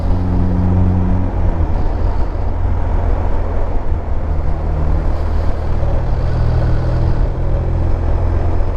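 Police-spec 2019 BMW R1250RT-P motorcycle engine running steadily with a low, constant drone, mixed with heavy wind rush across the microphone throughout.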